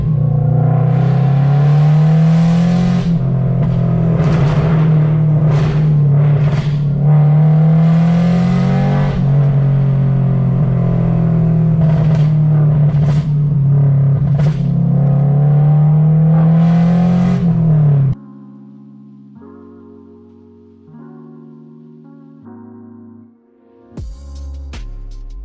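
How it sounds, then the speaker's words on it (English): A Toyota GR86 / BRZ engine runs loud and steady with a constant low drone and rising revs for most of the clip, then drops to a quieter, lower hum near the end. "let's get the car started up."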